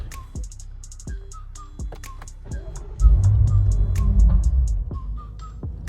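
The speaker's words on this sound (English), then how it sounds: "the car just cranks up and shuts off" A BMW F90 M5 engine cranks and catches with a loud low rumble partway through, runs briefly, then dies back down, with faint clicks and ticks around it and no one speaking.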